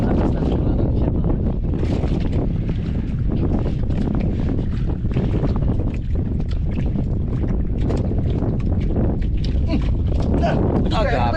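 Strong wind roars and buffets a microphone continuously during a squid fishing trip, loud and gusty, with a person talking intermittently underneath.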